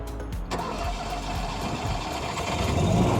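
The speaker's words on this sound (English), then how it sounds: "check to see if the generator will start" An RV generator cranks briefly and catches, settling into a steady, loud mid-pitched engine drone that continues to the end.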